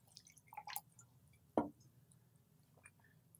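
Lemon juice is poured into a mortar in a kitchen while making a raw taco sauce, giving a few soft, close drips and splashes followed by one short, wetter splat, with a quiet background and no talking.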